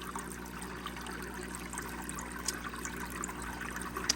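Strong water flow pouring into a container holding fish fry, a steady close rushing trickle with a continuous splashing texture throughout.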